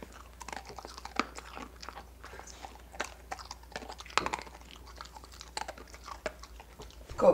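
A dog crunching and chewing small dog biscuits indoors, with repeated close, dry crackling bites in an irregular rhythm over about seven seconds, no talking.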